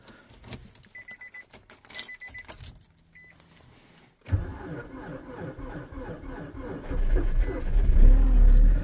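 A car struggling to start in minus 46 degrees Celsius cold, with clicks and jangling keys first, then a rough, labouring engine that catches and settles into a loud, uneven idle that builds in the second half.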